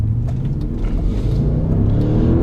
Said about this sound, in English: Has this really nice mechanical whine that comes with this sort of thumping, pulsing exhaust.